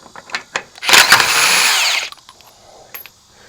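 A cordless impact wrench works on the steer tires of a 1989 Marmon truck, giving one loud, close, buzzing burst of about a second between quieter clanks.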